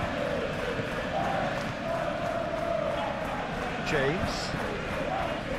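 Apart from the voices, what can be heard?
stadium crowd reacting in PES 21 video game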